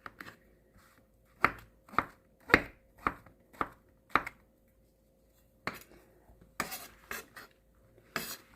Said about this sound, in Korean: 새송이는 이렇게 3등분을 해서 이렇게 젓가락 모양으로 이렇게 잘라줘요